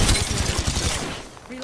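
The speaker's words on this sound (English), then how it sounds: "The enemies are shooting." Enemy gunfire rattles in a shooter game, a quick string of loud rhythmic shots that thins out and trails off after about a second, with voices under it.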